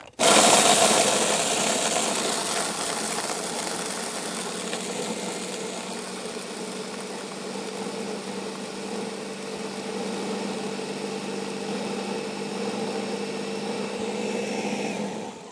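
A candy cane ice cream machine runs with a steady mechanical whir and motor hum, loud and continuous throughout, with no talking.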